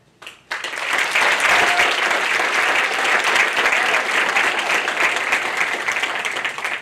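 A large crowd at a high school senior hall of fame ceremony bursts into loud, sustained applause that continues steadily for several seconds.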